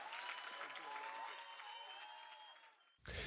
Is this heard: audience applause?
yes